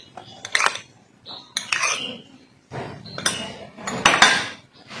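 Metal spoons clink against a bowl as semolina and rice flour are added to sliced onions for onion bhajji batter, several close, bright scraping and tapping bursts with short pauses between them, no voices.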